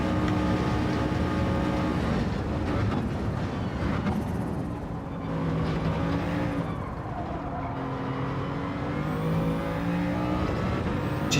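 BMW VGT race car in a racing video game, its engine droning steadily and loud as it accelerates, with layered tonal whine holding throughout and no talk.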